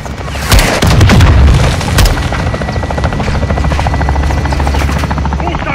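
Helicopter gunship making an attack run on a building in Modern Warfare 2, with loud rotor thumping, a heavy boom and bursts of fire near the start, then sustained loud rotor drone.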